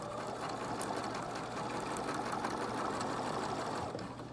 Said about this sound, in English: So then I'm going to sew it.